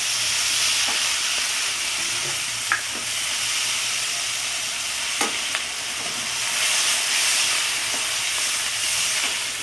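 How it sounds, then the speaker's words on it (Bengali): Masala for a Bengali-style bata fish jhaal fries in oil as water goes in, giving a continuous loud close sizzle and hiss with occasional light spoon scrapes and no voices. "মশলাটা আমার তেল ছেড়ে এসছে, এবার আমি জল দেবো এতে।"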